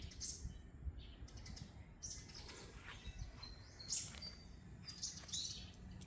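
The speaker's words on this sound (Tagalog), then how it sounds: "Pakinggan niyo yung mga ibon guys." Small birds tweet and chirp in clustered bursts around a farm, moderately near, over soft rustling and a constant low background rumble, with no voices.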